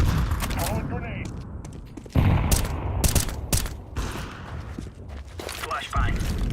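A grenade thrown and bursting in Counter-Strike 2, a sharp loud blast amid ongoing rapid gunfire and mechanical clatter, with voice callouts over the action.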